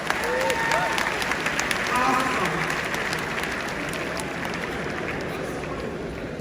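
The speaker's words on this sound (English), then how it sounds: "please can you give him another round of applause?" A conference audience in Enugu applauds Julius Malema with steady, dense clapping and some crowd noise. A voice briefly speaks over it near the start.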